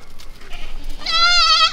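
A baby goat gives one clear, loud, close bleat near the end, with faint farmyard movement before it.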